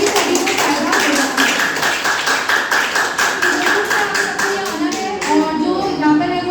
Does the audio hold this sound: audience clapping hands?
yes